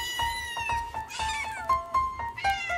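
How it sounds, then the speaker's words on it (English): A series of tonal cat meows in a holiday-jingle style arrangement, quick and rhythmic, close and clear over a soft pulsing backdrop. "So it's an actual cat."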